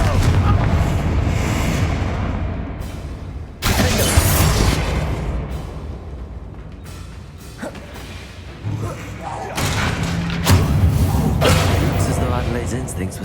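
A Confringo fire-blast spell explodes in a Harry Potter video game, heard as loud booming bursts and rumbling impacts with abrupt cuts, over a dense bed of game effects and music, with a voice speaking at times.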